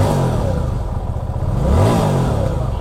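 A motorcycle engine revving up close, a loud rough mechanical roar that rises in pitch and then eases back, with a slight clattering texture and no voices.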